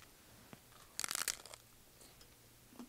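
Biting into a fish taco outdoors at a camp meal, heard as a brief burst of crisp crunching and chewing lasting about half a second, fairly close and alone, followed by quiet.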